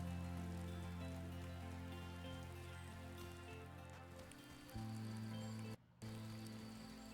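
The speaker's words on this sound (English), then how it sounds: "It's like appropriately raining." Rain falling in the video game Wylde Flowers, a soft continuous patter beneath steady tonal background music, with a brief dropout near the end.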